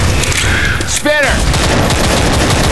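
Gunfire in the Left 4 Dead 2 video game during multiplayer play: loud, rapid bursts of shots running almost continuously, with a brief voice cutting in midway.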